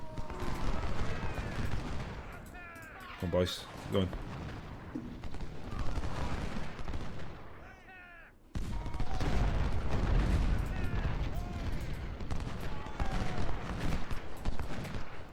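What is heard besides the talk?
musket volley fire in video game Ultimate General: Civil War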